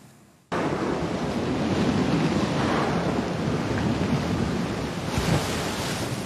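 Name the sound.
Indian Ocean waves in documentary extract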